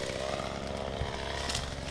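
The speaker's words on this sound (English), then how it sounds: "We run chainsaws a lot," A chainsaw running steadily while trimming diseased trees from a lift in the canopy, a continuous buzzing engine drone at moderate distance with no voices.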